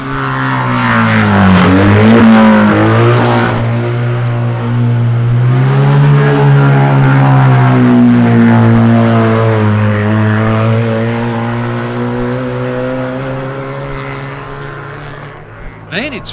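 A 1965 Isle of Man TT racing sidecar outfit rounds the Ramsey hairpin, its engine note loud and near, rising and falling in pitch through the bend before fading, with commentary talk over it.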